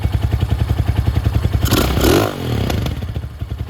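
A Venom Sportster 250cc chopper with a NIBBI carburetor idles low and close, a loud steady rapid putter that briefly swells and clatters before settling back into its even beat.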